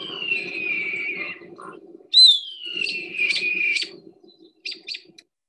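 A mimicking bird imitating a hawk and a robin: a long descending whistled scream, then a second sliding whistle broken by short chirpy notes, clear and close against a faint low background murmur.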